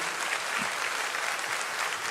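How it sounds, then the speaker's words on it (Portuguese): A church congregation at PIB de Curitiba bursts into a loud, dense round of applause, sustained even clapping filling the hall without a break. "Uma salva de palmas para o Fala a Deus"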